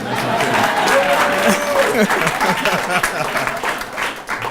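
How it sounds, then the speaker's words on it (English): Audience at a ribbon cutting ceremony applauding, a moderately loud patter of clapping that swells and fades, with voices mixed in throughout. "You all didn't clap for me like you did Pat."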